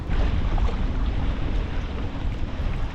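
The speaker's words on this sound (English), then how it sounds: "It's a bit windy today." Steady wind buffets the microphone with a low roar while waves wash around inflatable Itiwit X500 Strenfit kayaks at sea, a continuous loud rush with no voices.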